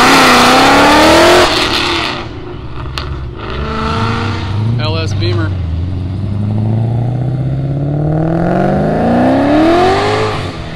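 At a cars and coffee meet, a car revs hard and spins its tires, a loud engine roar rising and falling with tire noise over several seconds. Excited voices can be heard near the end.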